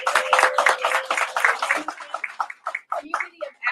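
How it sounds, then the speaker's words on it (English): An audience gives student drum performers a round of applause, a burst of clapping heard alongside a voice speaking. "So if y'all could give them another round of applause."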